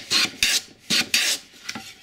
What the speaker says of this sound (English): So I'll go ahead and plane.